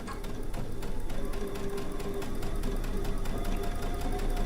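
A Baby Lock Solaris sewing machine fitted with a digital dual feed walking foot runs steadily, a fast, even needle chatter and motor hum lasting the whole stretch without talk.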